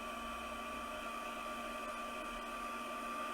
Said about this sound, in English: I use the first setting on our heat tool